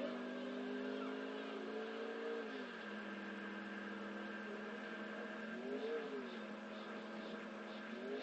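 Stolen car driving in GTA 4, a steady engine drone with rising and falling pitch as it accelerates and eases off, moderately quiet and alone.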